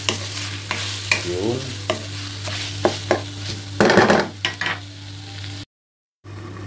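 Grilled chicken breast being sautéed and stirred in a hot pan, with steady sizzling under repeated scraping stirs and a short burst of louder frying near the middle, then a brief silent gap; a voice speaks briefly.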